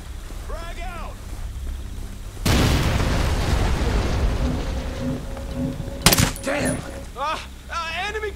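A frag grenade blows up in the Ghost Recon Breakpoint video game, a sudden loud blast followed by a long rumbling roar and debris, with clipped radio-style voices and a sharp crack near the end.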